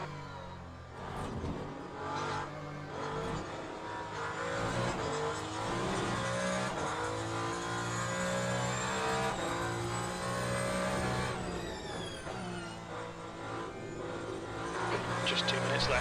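Race car engine from the Le Mans Ultimate racing game, a steady loud drone with revving pitch changes throughout, mixed under radio voices and game sound.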